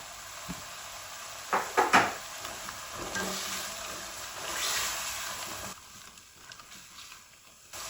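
Carrots frying with ginger and garlic in a cooking pot for masala pulao, a soft continuous sizzle with a few clinks and scrapes of stirring near the start.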